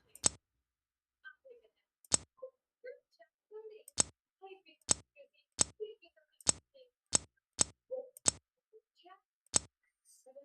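Crisp mouse clicks on a computer mouse, about ten sharp isolated taps spaced irregularly over several seconds, close and clear with faint soft sounds between them.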